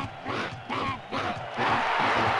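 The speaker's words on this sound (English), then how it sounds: "The crowd seems to love it. And the crowd is going nuts!" Crowd in Conker's Bad Fur Day roaring and shouting in bursts, a rowdy arena audience whose yells come in waves and build to a sustained cheer at the end.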